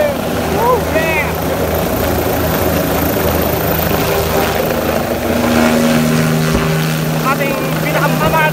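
A helicopter carrying Senators Kiko Pangilinan and Bam Aquino lands in Rizal, Nueva Ecija, its engine and rotors roaring steadily throughout. A crowd cheers and shouts close by over the noise.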